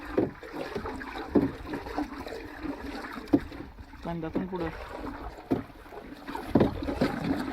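A stick swishes and sloshes a Decol 4X disinfectant mixture around in water, irregular splashy churning strokes close by, with someone speaking over it.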